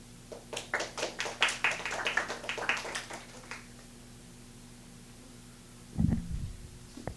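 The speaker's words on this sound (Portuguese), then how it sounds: "Não sei se ouviu, mas a gente aplaudiu você" Sparse, scattered clapping from a small group at a Latin American data protection conference panel (CPDP LATAM 2022), heard over a steady mains hum. The claps thin out after a few seconds, followed by a short muffled thump near the end.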